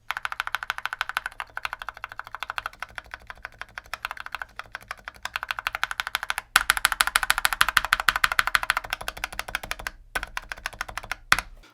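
Steady typing on a mechanical keyboard fitted with rubber O-rings under the keycaps, a close run of rapid clicks and muted thocks that briefly pauses and then resumes with heavier, louder keystrokes, with no voices.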